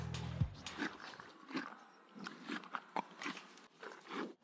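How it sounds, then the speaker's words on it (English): A dog drinking water noisily indoors, with a quick series of close, wet lapping and slurping sounds at an irregular rhythm, fairly faint overall. "Can you stop drinking water so loud?"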